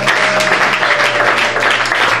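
A church congregation claps together in dense, loud, sustained applause, close and continuous, with no pauses across the short burst.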